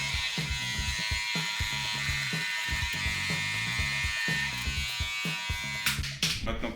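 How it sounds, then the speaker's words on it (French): A small electric shaver buzzes close up, cutting hair for a skinny fade on fine, light-coloured hair, with a steady hum broken by short repeated dips and strokes as the blade moves across the head. "on va pouvoir mettre le petit shaver"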